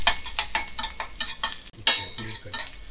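Peppers frying in a pan for menemen, with steady sizzling and a utensil stirring and scraping in quick, close strokes, a short busy kitchen burst with no talk.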